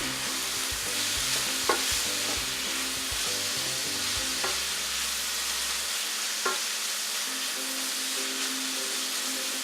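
Jackfruit curry with turmeric stir-fried in a pan: steady close sizzle with repeated scraping strokes of a spoon, low rumbling stirring that eases off partway, and a few sharp clicks, no talking.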